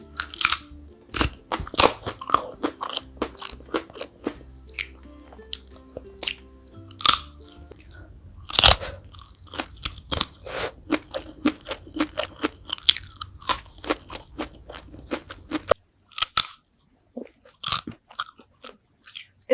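Crunchy chewing of spicy fried chicken feet, with repeated sharp crackling bites and wet mastication in a steady, irregular rhythm, close and fairly loud, with no talking.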